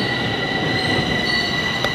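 A metro train at an underground station in Bucharest, a steady loud screech of squealing wheels and rolling rumble close by, with a brief click near the end.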